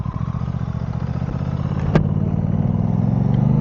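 An Aprilia RS660 sport motorcycle engine runs steadily at close range, a loud, even rumble with a single sharp click partway through, no voice over it.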